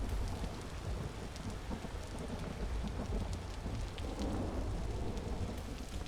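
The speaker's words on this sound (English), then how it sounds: "And it's raining out," Steady rain falls with a low rumble of thunder in the survival video game Vintage Story, a constant dense hiss that carries on evenly throughout with no voices.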